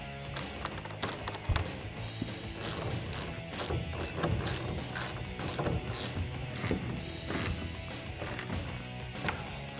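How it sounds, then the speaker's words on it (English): Socket ratchet tightening a nut onto a stud on a Ford F-150 bed rail: a rapid run of close, crisp clicking strokes with brief pauses between pulls. "Grab your 9/16 socket and your ratchet and tighten this down onto the stud"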